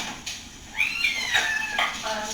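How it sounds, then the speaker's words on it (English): Cats meow in a garage off to one side, several rising and falling cries heard faintly through an open microphone, with a background hum and occasional muffled voices. "I hear cats and someone shouting orders to somebody"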